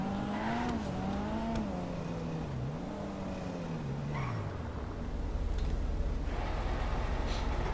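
A sports car roars and revs in a racing video game, its engine pitch sweeping up and down through gear changes with brief tire squeals, loud and continuous before fading into a rumbling background.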